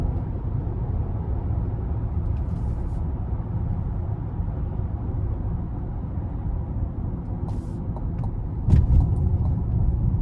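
A 2026 Chevrolet Traverse High Country FWD pulls hard in sport mode onto an interstate, heard from inside the cabin as a steady, loud low engine and road rumble, with a brief thump near the end.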